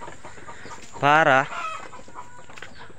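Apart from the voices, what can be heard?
chickens clucking in a backyard coop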